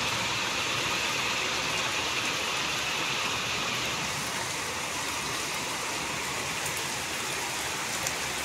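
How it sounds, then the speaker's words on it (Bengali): Steady rain pours onto broad taro leaves outside a village house, a dense, even patter and wash of drops at close range with no voices. "তো চলো একটু বৃষ্টিটা উপভোগ করা যাক।"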